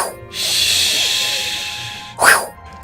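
A voice imitates wind in the leaves with a long breathy hiss, about two seconds of steady shushing air, followed by a short sharp rising breath, close to the microphone.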